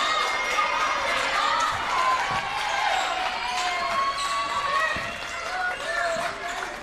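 At an NCCAA Division II women's basketball semifinal, a gym crowd cheers and shouts continuously, with sneaker squeaks, ball bounces and a commentator talking over the din.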